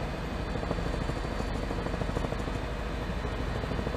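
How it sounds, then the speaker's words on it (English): A police helicopter flies overhead during a car chase in Houston, Texas, its steady rotor and engine noise a constant, moderately faint drone with no talking. "You see HPD's helicopter."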